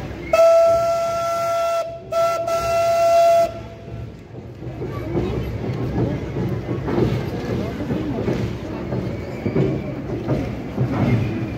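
Steam locomotive crew sound the whistle at a Slovak railway anniversary event, a loud sustained tonal blast in two bursts, followed by hissing steam and crowd murmur.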